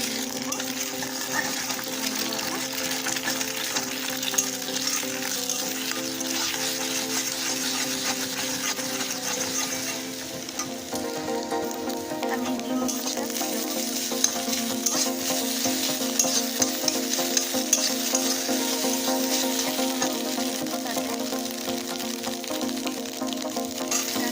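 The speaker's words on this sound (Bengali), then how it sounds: "কড়াইয়ে এখন আমি ডিমটা দিয়ে দেব" An egg frying in oil in a kadai, a steady, close sizzle and crackle lasting throughout with faint stirring scrapes and a steady background hum.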